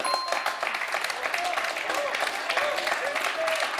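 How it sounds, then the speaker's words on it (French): Game show studio audience applauding a close match, a steady dense patter of clapping throughout, moderately loud, with faint electronic tones over it. "on a le public qui applaudit un très beau match"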